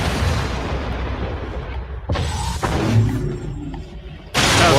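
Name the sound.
shotgun firing in a video game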